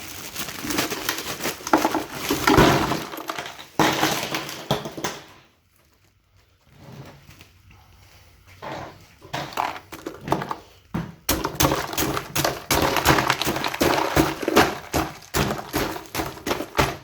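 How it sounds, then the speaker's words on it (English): Ice cubes are scooped and dropped into a container in close, loud bursts of rattling clatter and crunching. A quiet gap falls midway, then the clinking and scraping resume in rapid clusters. "So let me get some ice."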